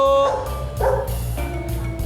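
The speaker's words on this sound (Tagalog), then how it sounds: "May aso pala dito. Hindi, malakas lang yung tahol." A dog barks a few times in short, muffled yelps amid a hum of background noise, sounding somewhat distant.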